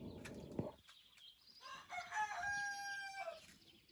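A young rooster crows a drawn-out call from a short distance at a country garden plot, preceded by clucking and rustling from other fowl nearby.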